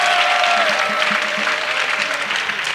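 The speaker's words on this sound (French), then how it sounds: "Let us clap for Jesus." A church congregation claps together in sustained applause for Jesus, a loud dense patter of many hands that fills the room steadily from start to finish.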